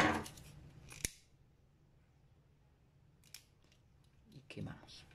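Scissors snip through cord while an ankle bracelet is being made, giving a few sharp, separate cuts spaced out over several seconds with quiet handling noise between them.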